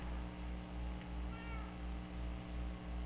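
A Minecraft cat meows once in the middle, a brief faint cry set against a constant low droning hum with soft rhythmic pulses.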